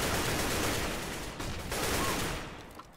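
Rapid bursts of gunfire with a headshot in the video game CS:GO on the Mirage map, dense and continuous crackling shots at steady loudness, easing off toward the end.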